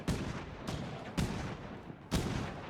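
Gunfire in the zombie survival video game State of Decay 2, with three or four heavy booming shots spaced roughly a second apart over a continuous rumbling din, loud and close.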